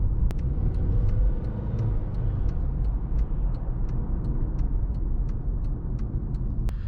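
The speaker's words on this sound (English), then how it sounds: "you get a lot of road noise in this cabin" Steady low rumble of road noise inside a moving 2012 Acura TSX cabin, constant and close, with faint regular ticking over it.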